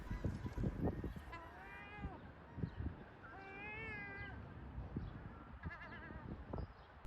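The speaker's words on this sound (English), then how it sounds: "seagulls can sound like both babies and cats meowing" Several drawn-out, cat-like mewing calls of seagulls on a beach in Brighton, UK, three clear cries with a wavering pitch, amid breezy outdoor noise and faint background sounds.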